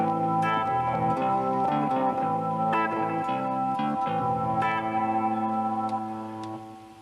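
A guitar synthesizer plays layered, programmed tones: sustained chords with shimmering effects, echo and reverb, a few struck accents, then a gradual fade near the end.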